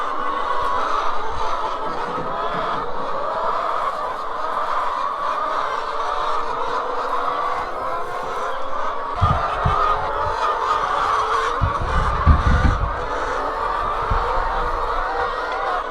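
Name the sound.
chickens clucking in the coop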